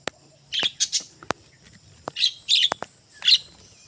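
Birds chirping in an eco park during a morning walk, several short bright tweets in clusters with brief sharp clicks between them, fairly close and clear against a quiet background.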